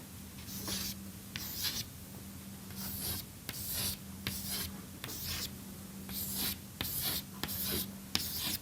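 Chalk or marker strokes on a lecture board draw a diagram of a two-dimensional atom lattice, coming in short scratchy bursts separated by brief pauses over a faint steady room hum.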